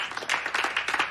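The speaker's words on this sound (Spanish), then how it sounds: "Un aplauso." Applause from a small group at the end of a burlesque dance class, a steady patter of hand claps running the whole moment at moderate loudness with no voices over it.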